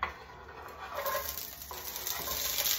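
Brussels sprouts and celery stalks hitting hot olive oil in a skillet over medium heat, giving a steady close sizzle that swells and keeps crackling throughout, with a little stirring rustle.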